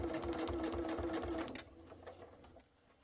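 A sewing machine stitches a couched bag in a fast, steady run of close mechanical whirring for about a second and a half, then stops, leaving quiet handling noise.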